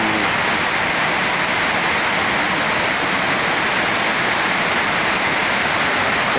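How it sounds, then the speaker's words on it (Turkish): Heavy rain pours down on a roof in a flood, a dense, loud, unbroken roar of hissing water that stays constant throughout, with no talking. "Felaket yağmur var"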